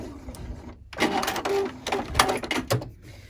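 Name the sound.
sewing machine stitching a luggage tag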